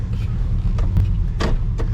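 A car's engine turns over as the car is towed in fourth gear, a low churning rumble with a few brief clunks and rattles, and a voice speaks over it.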